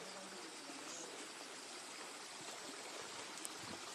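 A small year-round waterfall in Pachgram, Badarpur, Assam pours in a constant, even rush of falling water, dense and unbroken from start to finish, with no voices over it.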